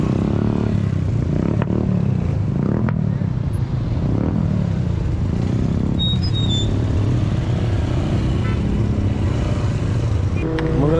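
Motorcycles riding in a line of bikers toward Mangla Dam, with a steady engine drone, passing revs and occasional clatter and thumps from a nearby rider, no clear talk.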